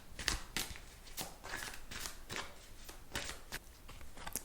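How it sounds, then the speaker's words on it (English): A tarot card deck being shuffled close up in a quiet ASMR setting, a steady series of crisp riffling bursts repeating roughly every half second, with no voices. "I'm going to shuffle the deck"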